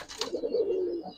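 A pair of Surma khaki pigeons gives one low, drawn-out coo, close by and clear, with no talking.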